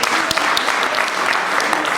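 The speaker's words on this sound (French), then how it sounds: "est-ce qu'on peut acclamer le Seigneur?" Church congregation applauding steadily and loudly for a couple of seconds, a dense wash of clapping close by with no clear speech over it.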